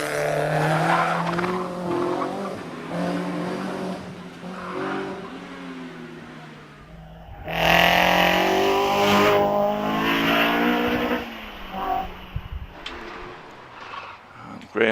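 A 2-litre Seven race car at the Prescott hillclimb: engine revving hard and shifting through several sharp bursts, with a louder surge midway as the car passes closer, over steady commentary.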